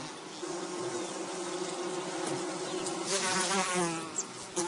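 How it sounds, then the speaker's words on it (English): A swarm of African bees buzzing continuously and densely throughout, a steady droning hum that swells slightly louder near the end, with no voices. "A swarm of African bees, far deadlier than any honeybee."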